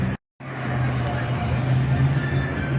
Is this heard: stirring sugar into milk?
no